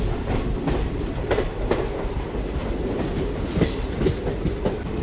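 A train runs on the Thar Desert line to Jaisalmer, giving a steady loud rumble from inside the coach with a rhythmic clickety-clack of the wheels over the rail joints.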